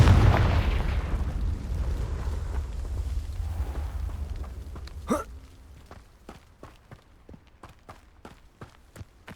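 Spell blasts from Hogwarts Legacy: loud rumbling booms fill the opening seconds, then a sharp crack gives way to a quick series of short, crisp impacts and clicks that fade out.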